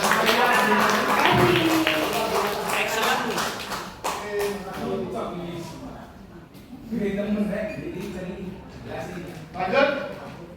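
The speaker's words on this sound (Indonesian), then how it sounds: "Tepuk tangan semuanya." A group of workshop participants claps continuously for several seconds, a dense patter of hands with voices mixed in, fading and then briefly swelling again.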